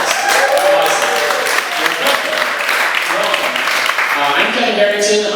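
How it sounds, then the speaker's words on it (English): A comedy-show crowd breaks into loud, continuous applause, thick clapping mixed with scattered whoops and voices from the audience at a live podcast taping. "Give a round of applause."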